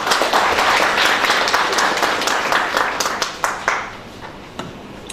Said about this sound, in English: can we please have a huge round of applause for him?